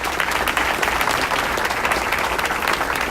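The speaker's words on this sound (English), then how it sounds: "Let's give her a round of applause." A room full of people at a community breakfast breaks into applause, loud and close, a dense continuous patter of many hands clapping without letup.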